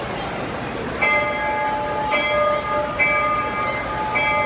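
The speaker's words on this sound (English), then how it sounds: "This locomotive has a very beautiful bell. I'm going to ring it for you so you can see." Bell on a restored 1883-era locomotive rings out in repeated clear strikes about once a second, each tone ringing briefly over a steady background rumble of railway surroundings.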